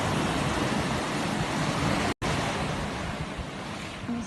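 Ocean waves wash onto the beach at Jurien Bay in a loud, steady broadband roar, mixed with wind buffeting the microphone and cut by one brief gap in the middle, with no voices.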